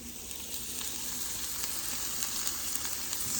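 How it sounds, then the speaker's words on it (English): Onions, asparagus and mushrooms fry in a pan with a steady, close, even sizzle that holds at the same level throughout, with no talking. "So I'm going to fry these up"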